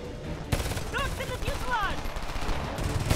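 M4 rifle gunfire in the Homefront video game, rapid bursts of shots crackling loudly under a voice speaking over the action.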